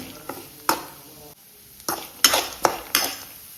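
Spatula or spoon stirring and scraping in a pan while frying flattened rice (avalakki), with sharp clatters and scrapes at irregular intervals over a faint sizzle, close and fairly loud.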